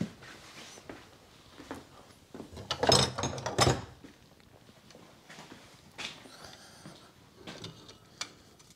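Pliers push a brake caliper piston back on a 2012 Ford Fiesta 1.2 Zetec petrol, with quiet metallic clicks and scrapes and a short burst of louder clanking in the middle.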